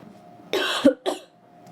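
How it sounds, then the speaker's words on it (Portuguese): Two quick coughs from one person, close and clear, the first harsher and longer, the second shorter, in an otherwise quiet indoor space. "Tava demorando minha tosse."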